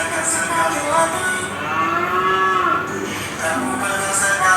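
Cattle lowing played for a classroom guessing game, a few drawn-out moos rising and falling over a steady background hum, fairly loud and without speech.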